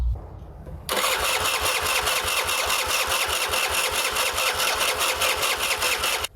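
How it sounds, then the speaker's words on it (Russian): A petrol engine fitted with a replacement carburetor turns over and catches after a quiet start, then runs steadily and loudly with an even, rapid firing rhythm until it cuts off at the end. "Лишь когда я пальцем приподнял заслонку с иглой и одновременно открыл дроссель, двигатель ожил."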